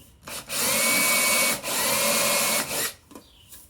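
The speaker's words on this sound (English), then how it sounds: "Here's a countersink bit. I'm going to put it right into the frame here, and that'll help me center the drill bit." A drill fitted with a countersink bit bores into a black walnut wooden frame, whining loudly in two sustained bursts with a short pause between them, then stopping, with no talking.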